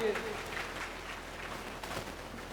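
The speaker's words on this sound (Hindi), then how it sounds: "एक जोरदार तालियां हमारे भाई के लिए।" Applause for a guest at an Indian mushaira event, a short burst of crowd clapping mixed with speech and hubbub, fairly steady, heard from within the gathering.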